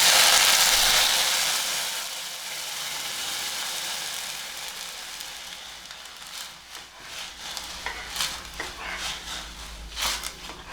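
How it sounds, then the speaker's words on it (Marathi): A loud hiss as water hits a hot pan, fading into bubbling and scattered clatter from the cooking. "आणि आता ह्याच्यात मी पाणी घालते"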